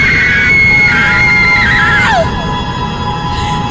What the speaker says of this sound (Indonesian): Aku lantas berteriak histeris berkali-kali.